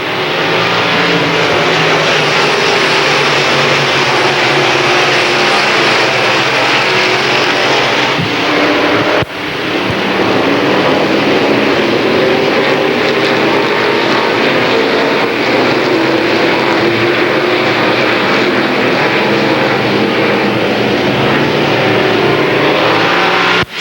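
Limited late model race cars from a 1993 super series heat roar around the track on the final lap, a dense, loud, continuous engine drone with a brief dip midway.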